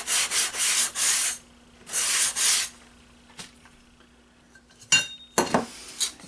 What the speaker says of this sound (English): And we'll take the sanding block.